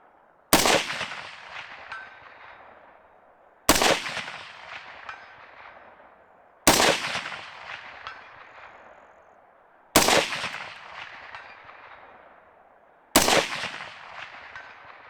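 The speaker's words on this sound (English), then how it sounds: "I don't think he likes gunshots." Rifle firing Freedom Munitions 7.62x39 150gr ammunition at an outdoor range, five loud, sharp shots evenly spaced about three seconds apart, each trailing off in a long echoing decay.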